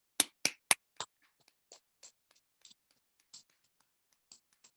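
Hands clapping during a question-and-answer session on forgiveness: three or four sharp, loud claps close together, then fainter scattered taps spaced out in quiet.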